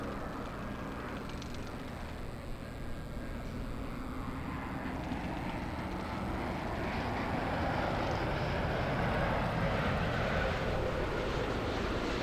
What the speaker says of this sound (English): We have the Qatari A350 1000.